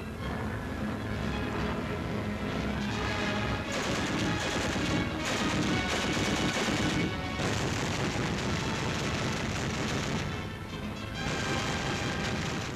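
Onboard machine guns on German bombers fire at attacking Soviet fighters in wartime newsreel footage, loud dense bursts of rapid gunfire with short pauses between volleys.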